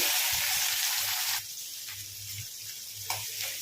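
Sliced onion pieces drop into hot oil in a pan for a bitter gourd fry, sizzling loudly and close, then settling into a steadier crackle as they are stirred.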